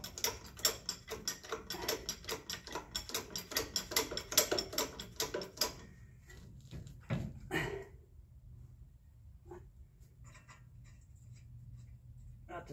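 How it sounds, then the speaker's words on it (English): Front strut spring on a 2005 Ford F150 4x4 being compressed with a spring compressor, a fast run of close ratcheting clicks for several seconds, then a few scattered clunks and taps before the sound drops to quiet. "we're compressing that spring a little bit"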